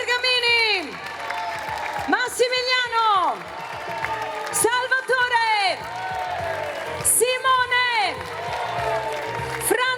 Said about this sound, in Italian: facciamo ancora un applauso, un urlo per Ferdinando, Luca Bergamini, Massimo